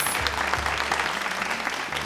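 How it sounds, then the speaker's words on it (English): Audience applause at the Miss World Kenya 2012 show finale, a continuous full clapping texture with a low hum beneath, sustained evenly for two seconds. "Please give them a round of applause."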